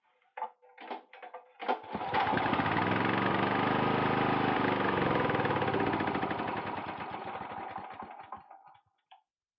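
A Honda GX240 generator engine running poorly as if starved for fuel, starting with a few sputtering pulls and coughs, then a steady but labored mid-pitched drone that slowly fades and dies out near the end.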